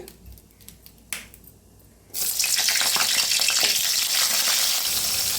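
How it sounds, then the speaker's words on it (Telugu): Green chillies dropped into a hot pan while making mango chutney, bursting into a loud, steady sizzle after a few light clinks and taps, continuing without pause. "ఇప్పుడు అదే ప్యాన్లోకి 5-6 వరకు పచ్చిమిరపకాయలు వేసుకుందామండి"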